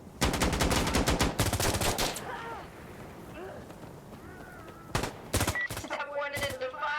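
Rapid automatic gunfire in the tactical shooter Insurgency: Sandstorm, loud sustained bursts at the start, a quieter rumbling lull, then more bursts with faint voices underneath.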